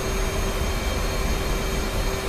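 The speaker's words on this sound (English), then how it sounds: "So what we should find is that rumbly noise disappears when we take off." Low continuous rumble of an F/A-18C Hornet rolling on the runway in the DCS flight simulator, with steady jet engine whine layered above a rough ground vibration, loud and unbroken.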